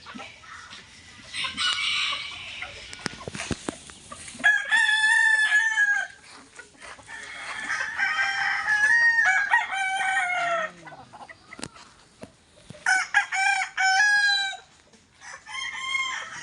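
Roosters on a Philippine gamefowl farm crow in several long, strained calls that overlap and trade off, close and loud, with softer clucks and rustling between.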